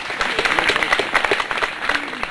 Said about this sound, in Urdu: تالیوں میں استقبال کیجیے.